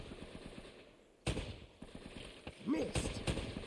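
Gunfire in the Uncharted: Drake's Fortune video game, a few sharp shots scattered over a quiet background, with a short voice in between.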